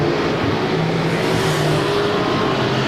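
Modified race cars roar around Claremont Speedway during a 1996 twin 50 race, a loud, continuous blend of engines droning in a steady pack with no pause.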